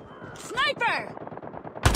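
Gunfire in the Pay 2 Win Simulator video game comes in a short burst of close, sharp shots against a sniper, amid game effects, ending in a loud crack.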